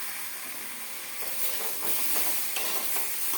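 Okra sizzles in hot oil in a wok with a dried red chilli, a steady close frying hiss that grows louder and crackles more after the first second, with no voices.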